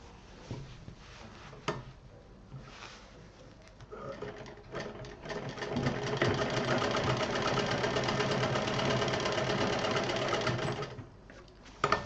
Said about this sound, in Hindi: यहाँ पर डबल सिलाई